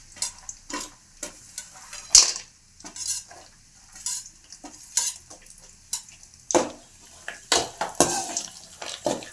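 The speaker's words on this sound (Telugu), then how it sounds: "విత్తనాలు అన్నీ నెయ్యిలో వేయించుకుంటున్నాం." Seeds roasting in ghee in a pan while being stirred, giving repeated scraping and clinking strokes of a utensil against the pan with a faint sizzle underneath, close and moderately loud, with no talking.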